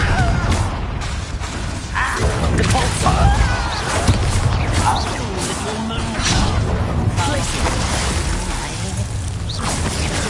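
A Confringo spell explosion in Hogwarts Legacy: a dense, continuous wash of blasts, crackles and whooshing magical effects in combat, loud and sustained throughout with no clear pauses.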